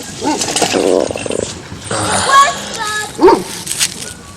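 A dog barks and yips in short, scattered bursts close by, with whimpering sounds mixed in and a person talking over it.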